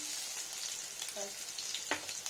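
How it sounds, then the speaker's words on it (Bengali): An egg fries in a hot pan with a continuous bright sizzle, a brief faint voice-like sound and a utensil scrape breaking through near the end. "ডিমটাকে একটু ফ্রাই করে নিই"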